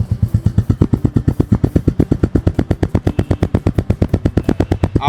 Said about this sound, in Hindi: थ्रॉटल दे थोड़ा सा, ये देख रहे हो भाई, तो फुल बढ़िया आवाज़ है